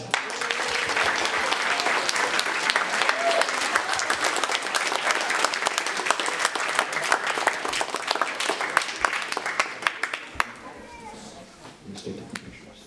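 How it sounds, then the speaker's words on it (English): A school audience applauding a 5th grade beginning band, sustained loud clapping from many hands that fades out near the end. "First row, stand up and let's give them applause."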